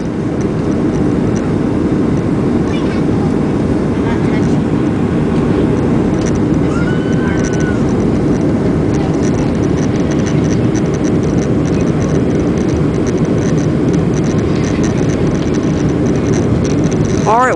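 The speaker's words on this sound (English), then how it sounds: "All right, we're close to landing. Look how fast we're going." Southwest Airlines airliner approaching to land at El Paso, Texas, heard from inside the cabin as a constant loud rumble of engine and airflow noise throughout, with no clear talk.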